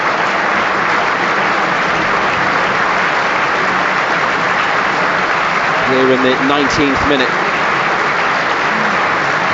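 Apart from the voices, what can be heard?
stadium crowd applauding in tribute to a young supporter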